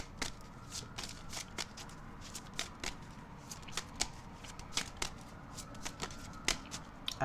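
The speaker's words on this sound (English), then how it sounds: "So let's go ahead and we'll get another card for Libra moon." Tarot cards shuffled before a draw, giving a soft, continuous papery rustle broken by regular sharp flicks and snaps, close and fairly quiet against a faint background hiss.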